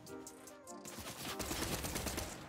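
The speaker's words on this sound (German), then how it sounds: "Warte mal, die haben einen Sniper dabei." Rapid gunfire in the Fortnite video game, a quiet burst of several sharp shots in quick succession, faint and unaccompanied by talk.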